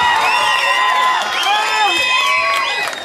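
At a school anniversary ceremony, a crowd of children cheers and shouts in a loud, continuous wash of whoops and high voices, with some clapping mixed in.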